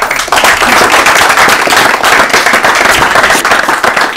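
Audience clapping for themselves at an Urdu-language literary quiz show, a dense, steady wave of many hands applauding together, loud and close, with no speech over it.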